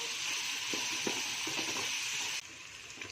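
Onions and green chillies sizzle steadily in hot oil in a pan for a tomato bath, a dense, close frying hiss with faint stirring taps, dropping abruptly in level near the end.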